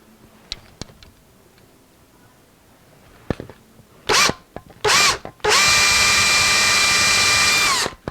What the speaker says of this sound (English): I should have considered drilling that before it went on